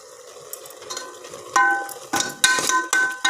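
Leafy greens frying in a pan for sambar, a close, steady sizzle broken by several sharp scrapes and clinks as a spoon stirs them against the pan, with no voices.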